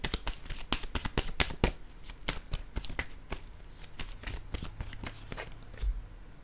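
Tarot cards being shuffled, a quick run of crisp riffling snaps and slaps, close and clear, with a low hum underneath and no talk.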